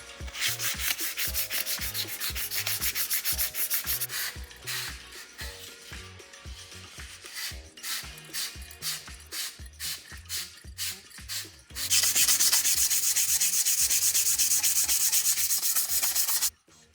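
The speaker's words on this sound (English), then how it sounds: "Okay, so for sanding, I was doing the sanding to get off all that excess paint I showed you," Hand sanding excess paint off a prop lightsaber hilt: rapid rhythmic scraping strokes, close and dense, pausing briefly midway, then a louder, harsher burst of continuous rubbing before stopping abruptly.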